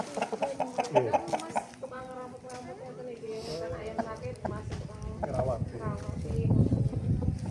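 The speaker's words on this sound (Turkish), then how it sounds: "Bakın horozumuz bu." A Bangkok-Brazilian cross Hint rooster clucks and calls in short bursts close by, with people talking over it and shuffling noise in the background.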